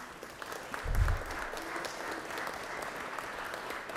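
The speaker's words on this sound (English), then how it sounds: "y'all give them a round of applause" Steady applause from a crowd in the Georgia State Senate chamber, a soft broad patter of clapping that holds evenly throughout with a brief low thump near the start.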